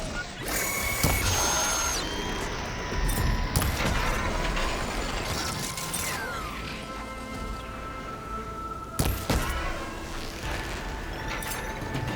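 Robotic machine creatures moving in the Horizon Forbidden West video game, with clanking mechanical ratchets and gear-like whirs, sharp metallic hits and a steady mechanical drone throughout.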